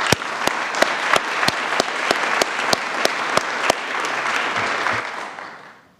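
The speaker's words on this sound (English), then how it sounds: "let's give them another round of applause" Crowd applause in a Columbus city council chamber, loud and steady, with sharp clapping in unison at a regular beat through the dense patter before it fades out at the end.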